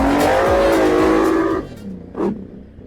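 An ATV fitted with an aftermarket exhaust revs loud and close for about a second and a half with strong harmonic engine tone, then drops off to a quieter idle with one brief blip.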